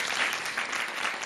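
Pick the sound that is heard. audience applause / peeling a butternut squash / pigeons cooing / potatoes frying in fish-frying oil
audience applause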